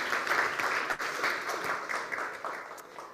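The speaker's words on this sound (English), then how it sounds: "Yes, let's give him a round of applause." Audience applause for a man named Mike, a short burst of moderately loud group clapping that holds steady and then gradually thins out toward the end.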